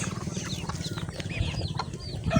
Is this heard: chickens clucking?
yes